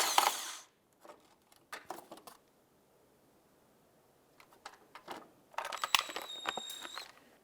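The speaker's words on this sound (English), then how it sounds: "We're going to remove the shield." Plastic splash shield being unfastened and pulled from the engine bay of a 2011-2019 Ford Fiesta after two T27 Torx screws come out: sparse close clicks and scrapes, then a quiet gap, then a burst of rattling plastic knocks and clatter near the end.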